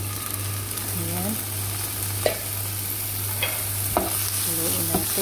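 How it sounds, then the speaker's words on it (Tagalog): Shrimp frying in a pan for a miswa and malunggay dish, sizzling steadily while a utensil stirs with a few scraping clinks, a constant low hum running underneath, no talk. "Haluin natin."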